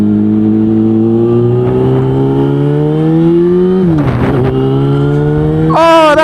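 A car accelerates as the driver heads out for a spin. The engine note is loud and close, climbing steadily, then dips and surges again near the end.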